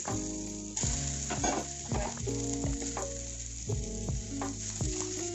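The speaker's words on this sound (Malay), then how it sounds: "dan kita grillkan salmon" Salmon sizzles and crackles steadily in a hot pan, with clattering utensil knocks and scrapes recurring throughout.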